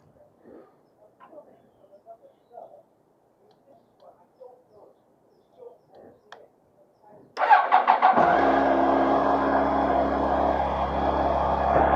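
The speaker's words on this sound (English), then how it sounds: "if we start the bike up," Motorcycle engine cranking and catching, then idling loudly and steadily up close; soft ticking and scattered faint sounds come before it starts.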